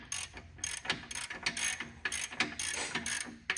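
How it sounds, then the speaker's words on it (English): A hand ratchet turns over the engine of a vehicle being readied for a G56 transmission swap, giving a steady run of close, crisp clicking bursts in a regular rhythm with brief pauses between strokes. "Actually, I put the ratchet down here now because it's just a lot easier"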